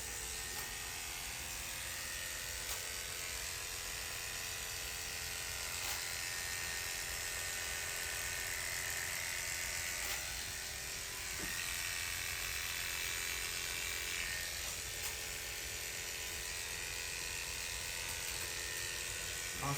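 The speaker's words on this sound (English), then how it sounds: "Let me have the clipper, please, one more time." An electric hair clipper buzzes during an FUE hair transplant on the crown, a thin, steady, continuous drone at moderate-to-low volume with no speech over it.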